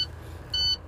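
A truck's low air pressure warning buzzer sounds during a pre-trip inspection: a sustained electronic tone running steadily for a moment, near and clear, with no talking over it.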